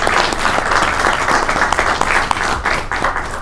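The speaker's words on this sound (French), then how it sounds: "nous allons aussi applaudir Mme Myriam Matondo-Kenda" Sustained audience applause at an academic colloquium on African intellectuals, a dense, steady wash of many hands clapping at close range for several seconds.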